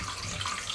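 Water pours steadily from a hose attached to a sink while a garden pond is drained for winter, a close, continuous rushing hiss with no voices.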